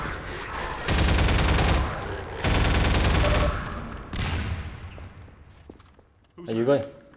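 Two long, loud bursts of pulse rifle fire from Half-Life 2, close and sustained, then a shorter burst and a few scattered shots.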